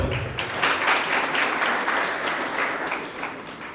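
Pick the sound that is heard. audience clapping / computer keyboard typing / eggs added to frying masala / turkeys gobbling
audience clapping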